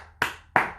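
Two crisp, close hand claps in quick succession, repeated to show a wave, each a sharp attack with a short fading tail.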